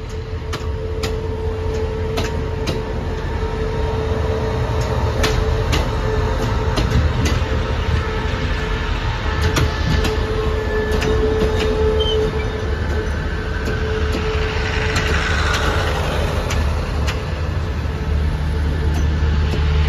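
Express train No. 85, a long-distance service hauled by GEA locomotive 4528, rumbles at Bangkok's Hua Lamphong station, a loud, steady mechanical drone and engine hum with faint clicks and a brief hissing swell near the end, no speech.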